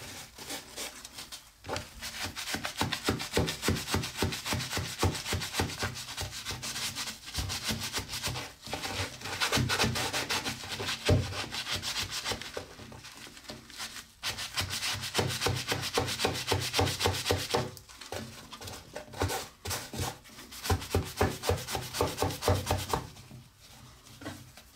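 A ZAP cleaner scrubber is worked back and forth over stained grout in steady, rapid rubbing strokes, a continuous close scratchy scrubbing with brief pauses.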